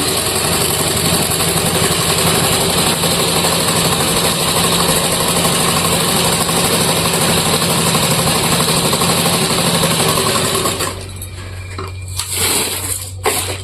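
A motorized sewing machine stitches a vegetable bag, giving a loud, steady droning hum up close that runs unbroken for about eleven seconds, then cuts off.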